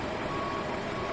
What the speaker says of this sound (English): Truck leaves.